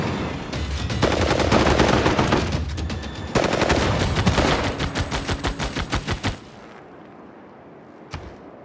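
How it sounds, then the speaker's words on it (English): A ranged unit's attack in Civilization 6 with a Warhammer mod, Karl Franz's forces, unleashes loud, dense volleys of rapid gunfire in two bursts that thin into separate rhythmic shots, then one sharp final report after a pause. "We are just going to shoot first."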